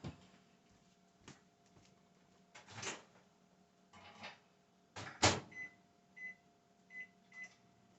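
A microwave oven heats a fudge mixture of condensed milk and coconut oil. There are a few clunks and a door thud, then a series of four short, evenly spaced beeps, quiet and close, with no voices.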